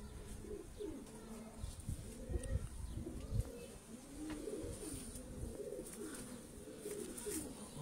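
Pigeons coo repeatedly in a low, rolling rhythm, several birds close by with overlapping calls, joined by faint chirps and light rustling.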